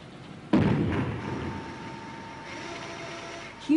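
An explosive charge detonates inside a vast underground rock salt mine chamber, a single deep heavy thud that rolls into a long low rumble and fades, with a faint thump near the end.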